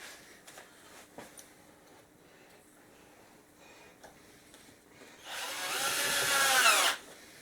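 A Michigan Industrial Tools cordless drill tries to drive a small screw. Quiet handling and clicks come first, then the motor whirs loudly for under two seconds before stopping, as the drill lacks the power to finish.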